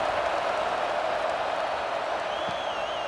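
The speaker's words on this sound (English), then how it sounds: "this crowd is buzzing after that last score" Steady, dense crowd murmur and cheering fill a college football video game stadium, USC at UCLA, after a score, loud and continuous with a faint whistle-like tone near the end.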